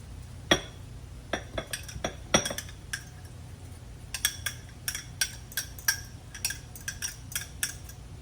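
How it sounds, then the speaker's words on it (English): Fork clinking and tapping against a bowl while mashing hard-boiled egg yolks for deviled sliders, irregular sharp clicks scattered over a low steady background hum, close up with no speech. "I'm just gonna break these yolks down first with a fork, just mashing them"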